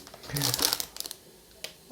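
Plastic packets of vegetables and Tom Yum sauce from a Big Bon rice noodle kit crinkle and rustle up close, a dense burst of crackling that thins into scattered light crackles and a final sharp crinkle.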